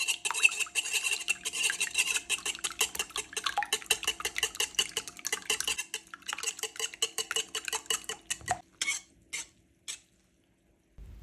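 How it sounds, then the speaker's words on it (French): Three large eggs whisked briskly in a bowl, a fast steady clatter of whisk against the sides that slows and breaks into a few final taps before stopping, close and alone. "je casse 3 gros œufs dans un bol et je les fouette"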